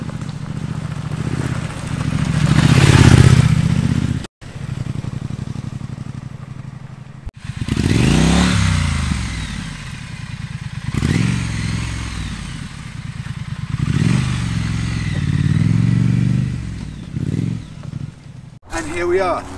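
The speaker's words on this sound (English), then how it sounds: "You can take a motorbike up here" A Triumph Street Scrambler motorcycle engine rumbles and revs unevenly over a rough dirt track, with clattering and scraping, loud and close throughout, with brief dropouts.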